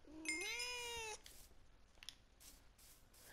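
A Minecraft cat gives one rising, drawn-out meow up close, then the scene falls to faint background noise with a few soft clicks and rustles.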